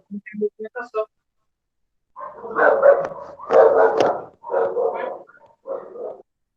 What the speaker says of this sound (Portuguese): desliguei aqui porque o cachorro tá latindo